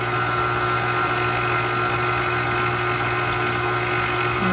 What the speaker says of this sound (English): I've never done it with my KitchenAid before, but I've got this dough hook on here